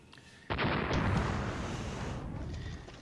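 Gunfire and artillery from the war strategy game Flash Point Southern Storm erupt in a sudden loud, sustained burst of booms and blasts that rumbles on and slowly fades over a few seconds.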